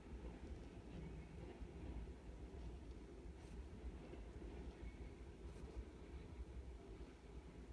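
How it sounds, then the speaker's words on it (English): A train passes right beside a house, a steady low rumble with dense rolling wheel noise that holds throughout at close range, with no talking. "I live right next to a train, and it's kind of wiggling my camera."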